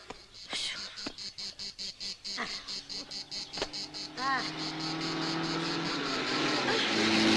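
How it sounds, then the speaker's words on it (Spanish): A wasp buzzes inside a moving car in rapid pulsing bursts up close, then settles into a steadier hum over a low engine rumble. "¡Ha entrado una avispa!"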